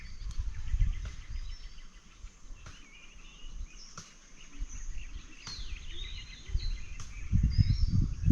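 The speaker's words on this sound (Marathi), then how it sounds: "इकडे बुलबुल पक्षी ओरडतोय." A bulbul calls among other evening birds chirping in the countryside of rural Konkan at sunset, with repeated bright calls over a low background rumble.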